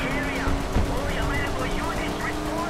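Video game machine gun fire, a fast continuous rattle of shots in the middle distance mixed with game effects and engine noise.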